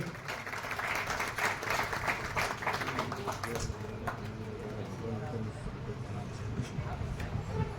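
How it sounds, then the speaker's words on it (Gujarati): A crowd claps to welcome the mayor at a grand procession for a saint, dense applause that fades after a few seconds as a voice speaks over a public address system. "આપણે સૌ તાળીઓથી એમનું સ્વાગત કરીએ"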